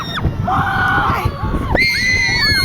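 Riders scream on the Runaway Train roller coaster at Six Flags, a loud continuous crowd of high shrieking voices over rumbling ride noise, with rising and falling yells close to the listener.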